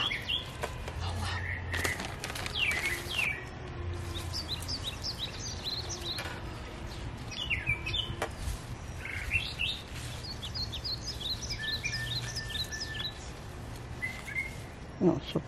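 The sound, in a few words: birds chirping and singing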